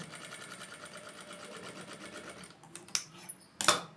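A sewing machine runs steadily while a blouse is stitched, its rapid even needle rhythm carrying on for a few seconds before stopping, followed by a couple of sharp handling clicks.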